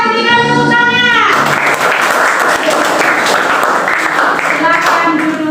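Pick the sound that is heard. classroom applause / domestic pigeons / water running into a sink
classroom applause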